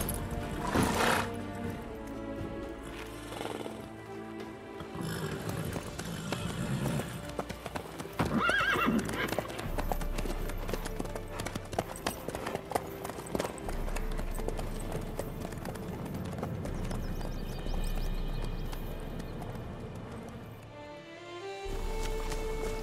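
Hooves clip-clop steadily at a trot with a loud horse neigh, from a horse in The Witcher 3 video game, carrying on over a background music score throughout.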